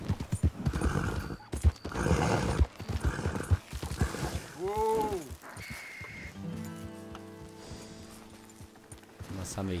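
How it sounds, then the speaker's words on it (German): A horse in Red Dead Redemption II neighs and whinnies, with hoof clops and other game sounds around it, fairly close. "Wie steht hier denn einfach ein Pferd einsam?"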